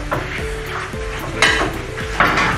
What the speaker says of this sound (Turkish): Güzelce karıştırıyoruz.